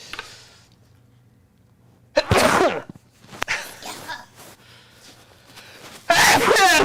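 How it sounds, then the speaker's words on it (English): A person's sneeze during a live shop project build, erupting as a sharp burst of breath, then another burst a second later and a final loud one near the end, with quiet room tone between. "I'm going to have to sneeze, so you might want to mute."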